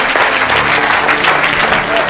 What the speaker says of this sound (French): Put your hand together for the grace.